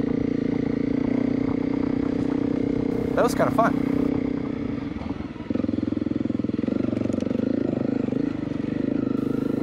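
A Honda CRF250L dual-sport motorcycle rides a trail, its engine droning steadily up close with a brief rev change midway and scraping clatter, while a rider speaks briefly over it.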